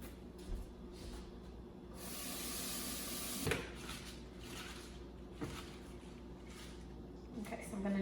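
Handful of spinach rinsed under a kitchen tap: a steady close hiss of running water starts partway through and carries on, with light bumps and clatter around it.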